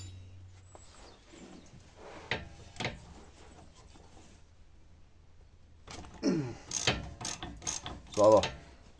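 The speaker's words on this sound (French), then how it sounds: "on va se choper le cliquet" A ratchet wrench working on a ball joint nut of a Nissan X-Trail during suspension repair, with quiet mechanical clicks at first, then a louder run of close ratcheting clicks and metallic knocks.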